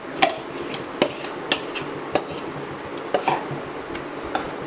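Cooked vegetables being stirred into a creamy pasta sauce with prawns, a utensil knocking and scraping the pan in irregular clinks over a soft background sizzle, no talking.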